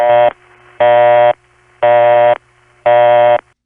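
Restored 1970s long distance busy signal from a Detroit crossbar exchange: four loud, even tone bursts, each about half a second long, separated by equal gaps of near silence, with no voices.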